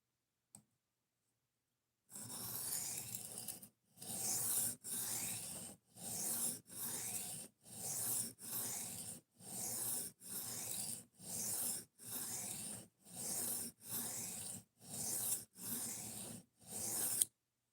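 A knife blade strokes repeatedly across a sharpener, about fourteen evenly spaced rasping passes with brief gaps between them, close and quiet, with no talk.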